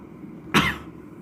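A single sharp human cough bursts out close and loud against a quiet room hum, then fades quickly.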